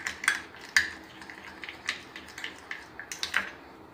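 A spoon stirring banana coffee scrub in a bowl, with quiet irregular clinks and scrapes of metal against the bowl rim, several sharper taps among softer swirling sounds.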